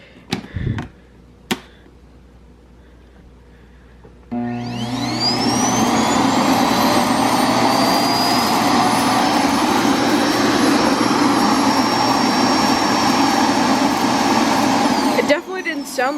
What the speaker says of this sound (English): I'm just gonna keep running the self-emptying bin over and over and over